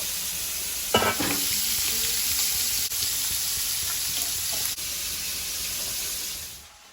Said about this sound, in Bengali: তেলটা গরম হয়েছে পটলটা দিয়ে দিচ্ছি